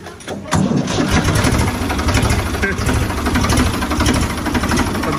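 A Ford 3600 tractor engine cranks and catches, then runs at a steady, loud, rumbling idle close by, with people talking over it.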